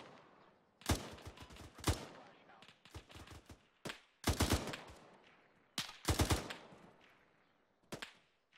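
Simulated rifle and machine-gun fire in the military video game Arma 3, sharp loud bursts of several rapid shots arriving in irregular clusters with short quiet gaps, close to the listener.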